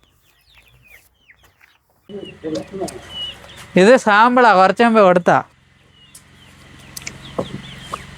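Chickens on a poultry farm at feeding time give scattered clucks and one longer, loud drawn-out call, close by, while a person talks among them.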